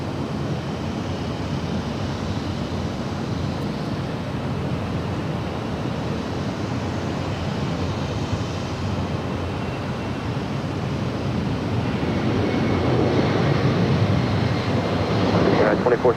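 Delta Boeing 757-200 jet departing LAX: a steady broadband engine roar heard from a distance, rising slightly in loudness over the final seconds.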